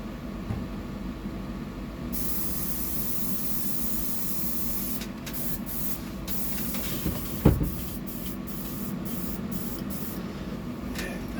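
Steady hiss of an airbrush spraying clear undercoat onto a custom fishing lure, with brief breaks and a faint knock midway, continuous and close.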